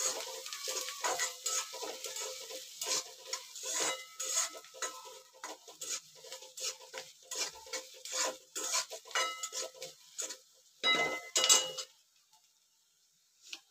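Vegetables sautéed with vermicelli in a pan, with a spoon scraping and stirring over a steady sizzle; the clatter repeats in an uneven rhythm, then stops abruptly near the end, leaving near silence.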